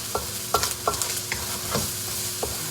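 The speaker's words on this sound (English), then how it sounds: "Now I'm just gonna take the wooden spoon and just cook it real quick." Fried rice stirred with a wooden spoon in a hot non-stick wok on an electric stove, a few scraping strokes over a continuous close sizzle, short and without talk.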